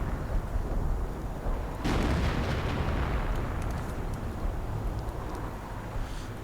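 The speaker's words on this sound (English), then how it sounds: "Calling in artillery right here on the pack." Artillery fire in a WWII real-time strategy game, a heavy explosive boom bursting out near two seconds over a dense, rumbling battle din that lingers and fades.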